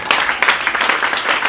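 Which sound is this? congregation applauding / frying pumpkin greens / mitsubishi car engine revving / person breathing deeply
congregation applauding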